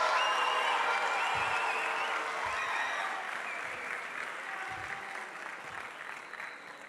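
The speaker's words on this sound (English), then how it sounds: "give your princesses and princesses one last round of applause." A crowd applauding homecoming princesses at an SBU Homecoming 2022 spirit chapel, dense sustained clapping from a large audience that slowly tapers in loudness over several seconds.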